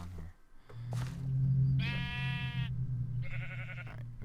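Sheep in the CrackPack video game bleat loudly in two long, wavering calls over a steady low game drone, with a brief spoken word near the start.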